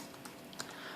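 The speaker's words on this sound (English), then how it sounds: "the keyboard I'm using on here is a one of the Apple Chiclet keyboards" Fingers tapping on an Apple chiclet keyboard in a home office, producing a quick run of light, close clicks over a soft background hiss, with a slightly sharper keystroke partway through.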